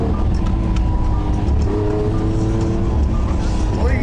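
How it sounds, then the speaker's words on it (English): A car engine roars and revs at a lively outdoor party in Lagos, a loud, continuous rumble with crowd noise mixed in and a rising rev near the end. "All you hear is the engine,"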